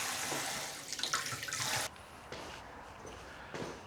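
Water splashes and runs over a freshly developed tintype plate during rinsing, a close, busy trickle for a couple of seconds that then drops to quieter dribbles and drips.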